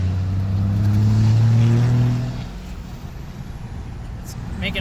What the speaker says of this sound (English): I'm just gonna whack the throttle kind of like the other test I was doing, just to kind of show you guys where spool really comes on fast